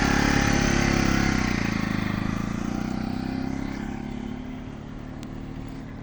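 A 200 cc motorcycle's engine runs with a dense, throbbing rumble as the rider pulls away, loud and close at first, then steadily fading as it moves off.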